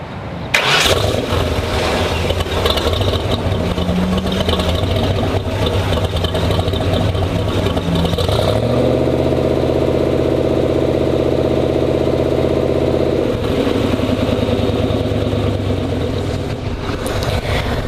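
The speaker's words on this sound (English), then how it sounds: "the exhaust has a very, very nice rumble to it, but it's not overpowering" A 1934 Ford custom car cranks and fires up, then settles into a steady idle with a deep exhaust rumble, close and loud, the pitch shifting slightly as the engine settles.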